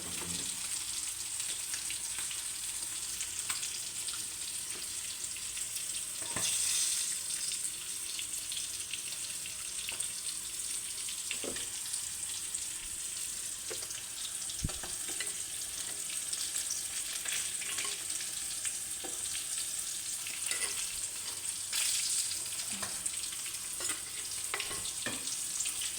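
Cut fish pieces dropped into a simmering curry and stirred, with a continuous soft sizzle and bubbling punctuated by occasional sharp clinks and scrapes of a utensil against the pot.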